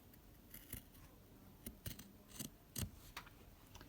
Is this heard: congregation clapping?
no